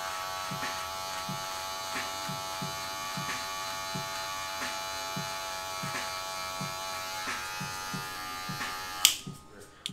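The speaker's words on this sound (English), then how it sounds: "we're just gonna take the bulk down with our clipper closed" An electric hair clipper with its lever closed buzzes steadily close by while cutting bulk hair during a home fade, with regular soft rhythmic passes through the hair and a brief clatter at the end.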